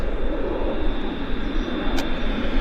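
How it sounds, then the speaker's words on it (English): KLM Boeing 777 jet engines starting up at an airport, a loud steady broadband roar with a rising whine, heard continuously up close. "They're starting engines on the KLM 777."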